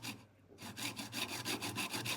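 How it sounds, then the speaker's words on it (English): A hacksaw rasps steadily back and forth through a cracked plastic bracket from a Mercedes R107 SL central console, with even quick strokes at close range after a brief pause at the start. "we're going to cut that corner off, bearing in mind we've got to account for the width of the hacksaw blade"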